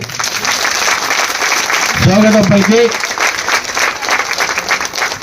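Audience applause welcomes a chief guest at a free saree distribution event in Yellandu, a steady crowd clapping throughout, with a voice speaking briefly over it near the middle.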